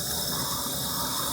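Water runs steadily from a newly installed bathroom sink tap with its aerator removed, a constant close rushing gush with no talk.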